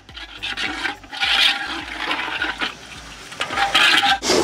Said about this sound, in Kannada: ಈಗ ಇದಕ್ಕೆ ನೀರನ್ನು ಹಾಕ್ಕೊಳ್ತಾ ಇದ್ದೀನಿ